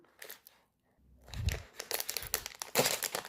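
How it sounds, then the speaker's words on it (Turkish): Plastic packaging around a Hello Kitty Collection roly-poly toy being torn open, with close crinkling and rustling bursts that come in several irregular rounds, growing louder toward the end. "Hemen açalım. İlk başta buradan açıyorum."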